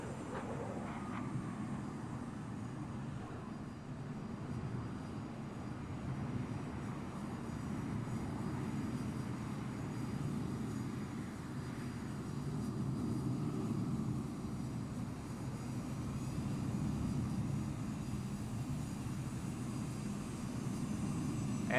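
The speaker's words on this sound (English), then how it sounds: "what plane is that? That thing is loud." Loud, steady roar of an airplane engine in Microsoft Flight Simulator 2024, a deep broadband drone holding for the whole span with slight swells in intensity and no talking.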